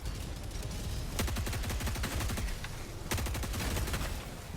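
An assault rifle in Helldivers 2 fires rapid automatic bursts, two long strings of close, loud shots separated by a short pause.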